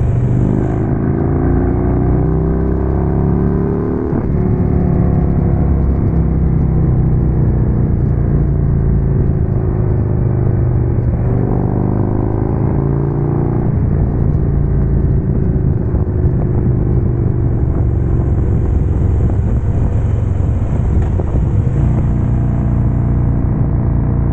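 A Harley Street Glide fitted with Rinehart DBX45 exhaust is ridden near a Katy Trail trailhead. Its loud, continuous engine rumble rises and falls with throttle and gear changes, close and unbroken throughout.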